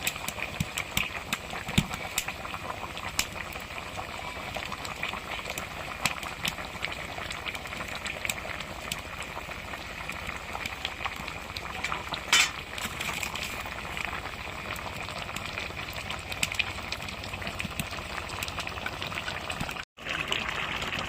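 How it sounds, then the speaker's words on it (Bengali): Silver carp curry with eggplant boiling in a pot, a long run of dense bubbling and popping with scattered sharper clicks, steady and close, briefly cutting out near the end. "তরকারি আমার ফুটে উঠেছে"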